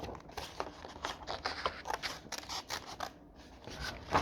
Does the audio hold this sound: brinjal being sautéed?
no